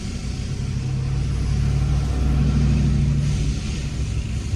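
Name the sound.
car driving past from behind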